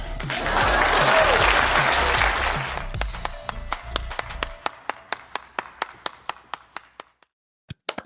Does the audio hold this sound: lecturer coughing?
no